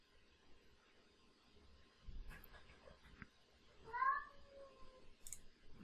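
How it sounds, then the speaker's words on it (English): A single faint, drawn-out cat howl with a rising and falling tone sounds once midway through, against quiet room noise and a few soft clicks. "Did you hear that? Can you hear that? That's my cat."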